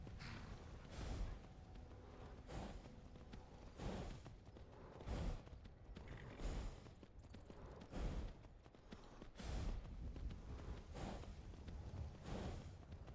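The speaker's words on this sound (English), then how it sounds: "Horse friend puffing away there." A horse in the video game Skyrim puffing and snorting while its hooves clip-clop along, faint rhythmic breathy bursts repeating roughly every second or two over a soft steady background.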